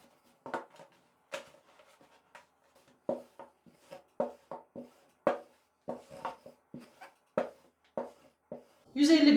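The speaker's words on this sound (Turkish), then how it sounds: "Ve daha sonra merdane yardımıyla açabildiğim kadar açıyorum." A wooden rolling pin works unleavened katmer dough flat on a surface, giving a steady run of soft, close knocks and thumps at an uneven rhythm, with a louder rustle at the very end.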